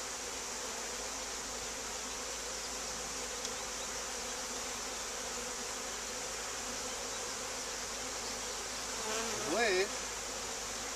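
Honey bees buzz steadily around a hive while a new package is installed outdoors, a dense, continuous swarm drone with one closer bee briefly passing louder near the end.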